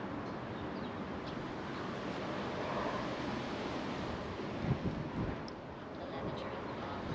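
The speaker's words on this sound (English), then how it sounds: "Crazy wind." Strong gusting wind buffets an FPV drone in flight, a steady broadband roar and rumble pressing on the microphone throughout, with a few heavier thumps of gust midway.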